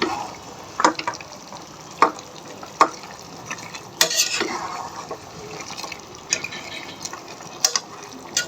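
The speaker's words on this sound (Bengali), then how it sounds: "আমি এই পানি দিয়ে হাঁসগুলোকে কষাবো একটু নেড়ে চড়ে দিই" Duck meat curry, being braised in the water it released, is stirred in a pot with a metal spoon, giving repeated scraping strokes every second or so over a soft, bubbling sizzle.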